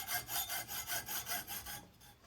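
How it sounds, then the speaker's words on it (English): A hacksaw cuts excess cooling fins off Kawasaki Z1 Super Six cylinder barrels, about eight rhythmic back-and-forth rasping strokes, close and steady, then stopping. "using my hacksaw, I cut the edges off that I don't need to trim it to size."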